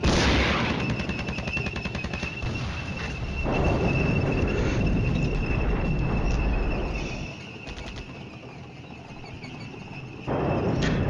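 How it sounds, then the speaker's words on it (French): Artillery shelling in the Cold War wargame Flashpoint Campaigns: a dense, continuous barrage of crackling impacts and booms at a steady loud level, briefly dropping off before another burst resumes near the end. "Et notre artillerie donne tous ses obus qui lui restent sur cette zone"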